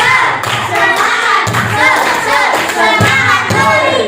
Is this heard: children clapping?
yes